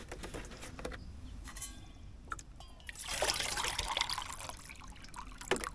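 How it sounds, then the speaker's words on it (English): Water trickles and splashes into a small titanium camping pot at a primitive off-grid campsite in Utah, heard close and fairly quiet, in short bursts with a stronger pour near the middle. "Make sure we pour the water here."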